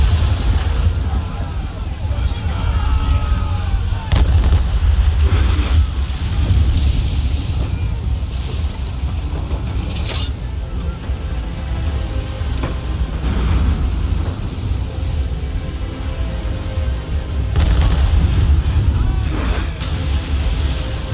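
Stormy sea in the Assassin's Creed 3 video game: a constant roar of wind and crashing waves around a sailing ship, with several sharp bursts that could be cannon shots breaking through the din.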